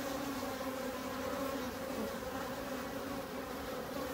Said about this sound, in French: Il y a une abeille qui est en train de danser, qui fait des 8.